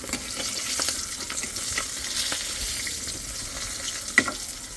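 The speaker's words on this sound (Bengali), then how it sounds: "মাছটা একটু কড়া করে ভাজতে হবে" Fish frying in oil in a pan gives a steady crackling sizzle with light stirring and scraping sounds and one sharp clink near the end, close but moderately quiet, with no talking.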